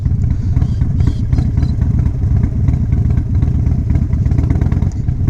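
Harley-Davidson Dyna Wide Glide (FXDWG) motorcycle rolling at low speed, a loud close uneven V-twin engine rumble that stays steady throughout.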